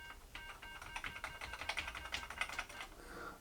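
Keys on an Atari 800XL home computer keyboard are pressed one after another in a steady series of clacky taps, close up over a faint electronic hum.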